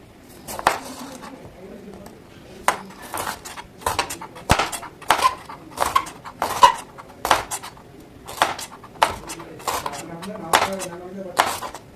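Knife chopping green tomatoes on a board, a steady series of sharp, close knocks repeating every half second or so, with someone speaking over the cutting at times.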